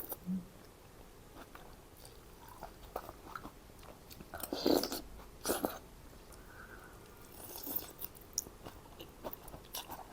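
Someone eats a bowl of Vietnamese pho with beef and bites chili, with soft, close chewing and intermittent crunchy bites over a quiet room, no talking.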